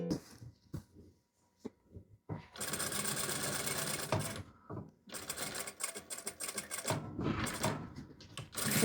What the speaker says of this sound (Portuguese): E vamos costurando aqui na beiradinha. Para formar a nossa barra.